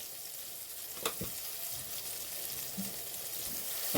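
Cumin powder and salt frying in a pan give a soft, continuous sizzle, with a couple of brief stirring knocks near the start, quiet and close, no voices.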